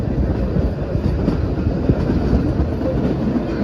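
A train climbing the hill toward Shimla, heard up close as a loud, continuous rumble with rhythmic clatter from the wheels and cars.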